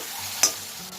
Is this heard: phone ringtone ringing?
no